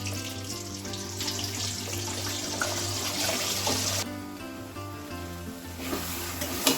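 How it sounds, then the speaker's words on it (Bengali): Egg curry masala sautéing in a kadai, a continuous close sizzle and stirring scrape over a low steady hum, with occasional spatula knocks and a brief louder burst at the end. "ডিমের মশলাটা প্রায় আমার কষানো হয়ে গেছে"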